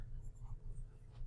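A pencil scratching quietly across paper as the word independence is written out by hand, faint soft strokes close by with a low hum underneath.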